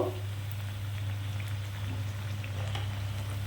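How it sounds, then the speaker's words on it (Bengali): Potato chops (aloo chop) fry in hot oil, producing a dense, steady bubbling sizzle close by with a low constant hum underneath. "এভাবে উল্টে পাল্টে বেশ কিছুক্ষণ সময় নিয়ে লাল করে ভেজে নেব"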